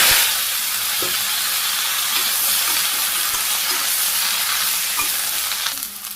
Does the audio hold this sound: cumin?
yes